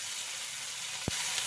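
Tomato, asafoetida and ginger paste sizzling in oil in a pan, a bright constant hiss with one short low knock partway through, close and steady with no one talking.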